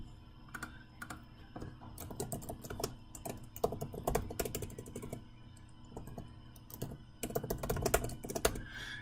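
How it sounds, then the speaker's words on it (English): Quiet typing on a computer keyboard as notes are entered, irregular clusters of soft, close key clicks with brief pauses between bursts, no voices. "And they can type in notes."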